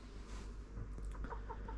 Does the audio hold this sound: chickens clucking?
yes